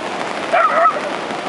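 A dog yips and barks briefly while tussling with a fish outdoors in Tlapa, a short burst of high, excited sound amid steady background noise and some distant chatter.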